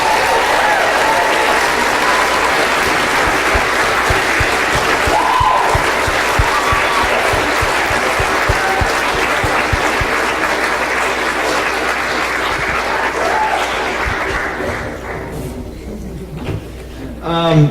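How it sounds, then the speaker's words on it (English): A crowd at a high school theatre production of Guys and Dolls applauds steadily and thickly for a long stretch. Voices sound underneath, and the clapping thins out toward the end. "Give a round of applause for Kim, if she's here."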